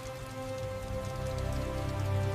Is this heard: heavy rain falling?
yes